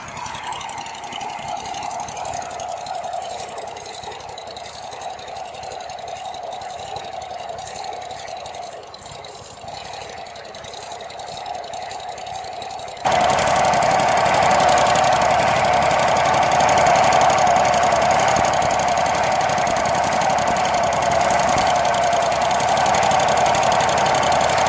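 An Exmark lawn mower engine run for the first time in years, with a worn spindle and a lack of power: a steady mechanical drone that jumps to a louder, harsher roar partway through and holds there to the end.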